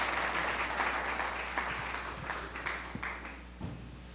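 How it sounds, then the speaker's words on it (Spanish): A church congregation applauds during a Spanish-language Mother's Day service, a steady wash of clapping with a constant low hum beneath it, fading slightly toward the end with a few scattered louder claps. "Animemos a Yadi con un aplausito."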